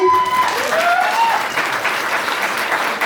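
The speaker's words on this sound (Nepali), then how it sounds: "ताली" Applause rings out at a Christian wedding ceremony, a dense burst of clapping from the gathered guests that fills the room and carries steadily throughout, with faint overlapping voices.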